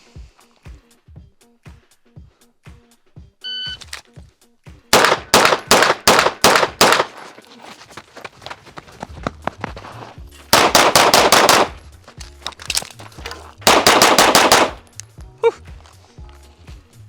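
Rapid strings of pistol shots from an OA Defense 2311 5-inch Pro at a shooting range, loud sharp bursts in several quick volleys separated by pauses, with quieter clicks and shuffling between strings.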